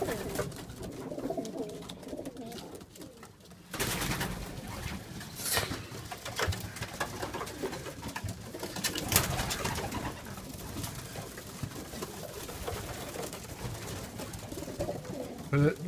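Racing pigeons in a loft coo steadily under a dense, busy background of rustling and fluttering, with a brief faint voice partway through.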